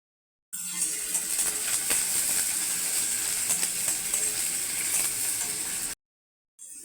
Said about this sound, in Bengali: তেল গরম হয়ে গেছে, কালো জিরে ফোড়ন দেবো।